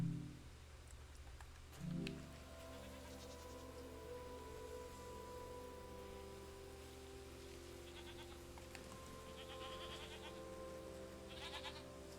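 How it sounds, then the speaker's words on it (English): A goat bleats in the game Season, with a couple of short bleats near the start set against a steady rain-like wash and a sustained musical drone. "And the goat's so petable."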